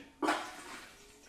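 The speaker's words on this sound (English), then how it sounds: "It's flushing, and then it's gonna drop that seat here in a minute." A DeerValley DV-1S0371-V3 smart toilet flushing automatically after the user stands, a sudden close rush of water that starts abruptly and tapers into a steady fading swirl.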